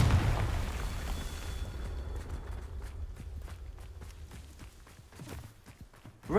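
A Confringo blast spell erupts in Hogwarts Legacy, a loud, low booming burst at the start that rumbles and fades over several seconds, with faint footsteps and lighter impacts following before another sharp hit at the end.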